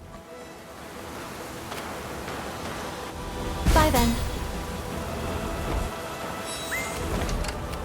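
Steady, hissing rainfall in a video game, heard as a continuous wash of noise with a brief louder swell partway through, while a voice speaks briefly over it.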